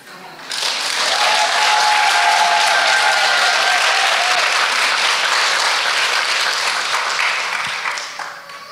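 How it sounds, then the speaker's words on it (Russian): Sustained audience applause at a Russian birthday congratulation event, a dense, loud wash of many hands clapping that swells quickly and holds steady for several seconds before tapering off. "Спасибо вам за хорошие аплодисменты."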